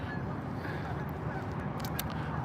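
Geese honking in a busy, overlapping flock, moderately close, with a few sharper calls standing out over a steady outdoor background at a New Jersey lake.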